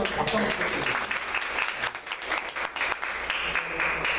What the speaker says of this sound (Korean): 수고해주신 우리 페르소나 상사분한테 박수 한번 부탁드립니다